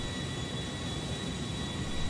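An Airbus A330-300 jet flying in GTA V, an even, broadband engine rush with a thin high tone, steady and uninterrupted for a couple of seconds without speech.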